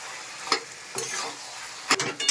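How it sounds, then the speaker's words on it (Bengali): Food sizzles in a hot pan while a utensil scrapes and stirs a few times at uneven intervals, as bottle gourd with fish head fries with a little sugar. No one speaks. "এটা একটু ভাজা ভাজা হবে"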